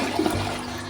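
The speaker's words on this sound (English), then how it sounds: "Let's make sure it flushes." A flushing American Standard toilet in a Hyatt House hotel bathroom in Seattle gives one steady rush of water from start to finish, close and fairly loud, with no voices.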